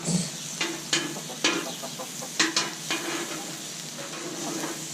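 Butter sizzling on a hot griddle as it is smeared around before steak goes on, steady frying hiss broken by several sharp scraping strokes and clicks, close and fairly loud with no talking.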